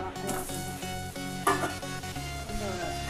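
Paneer cubes fry in a pan with a dense, steady sizzle, close and loud, broken by a few stirring scrapes and clinks against the pan.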